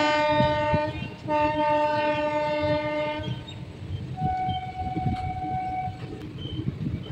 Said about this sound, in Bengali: দেখুন ট্রেন এখন পুরো বাঁক নিয়ে ধীরে ধীরে এগিয়ে চলেছে।